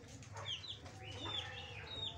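Chickens cluck in a farmyard coop, several birds giving short, high squawks and clucks at moderate distance over a low steady background hum.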